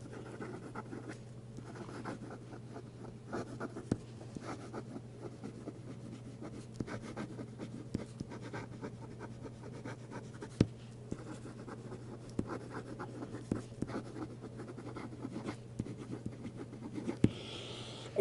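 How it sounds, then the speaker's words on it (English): A Cross pen with a gold fountain nib scratches rapidly across paper in fast writing, a faint, close, continuous scratching with small irregular ticks over a steady low hum. "And we'll do some fast writing."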